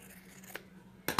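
Scissors snip excess fabric off chair upholstery in a quiet room, with a faint cut near the middle and two sharper, louder snips at the end.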